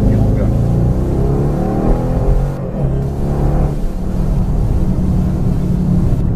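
Bentley Continental GT V8 S engine driving: a deep, steady low-pitched growl with a rising rev sweep early on, loud and continuous throughout, with speech mixed in.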